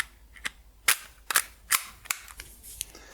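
Parts of an Umarex Walther PPQ airsoft pistol click and snap together during reassembly, a series of sharp, close plastic-and-metal clacks spaced irregularly with quiet gaps between them.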